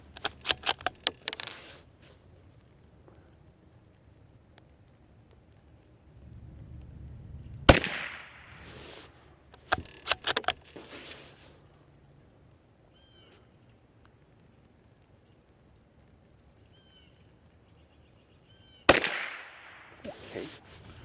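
Ruger American rifle in .22 magnum fired while zeroing a scope outdoors, a few sharp loud cracks spaced seconds apart with quiet gaps and faint handling noise between them.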